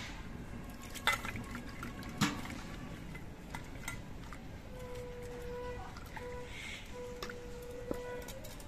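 Water being added to ground mustard paste to thin it, heard as soft close liquid pouring and dripping with a few light utensil clicks and faint background tones, with no talk.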